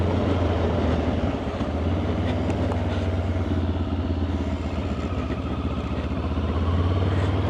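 A Benelli TRK 702 motorcycle being ridden produces a continuous, close engine drone with a deep throbbing rumble and light mechanical clatter. The sound stays at a steady level throughout, with no talking.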